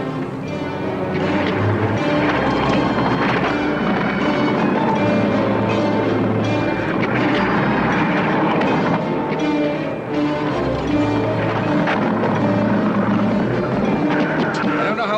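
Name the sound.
aircraft engine droning in flight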